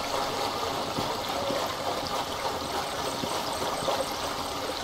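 A stream in the survival video game Rust flows with a continuous, close, steady rushing and trickling of water, heard on its own without talk.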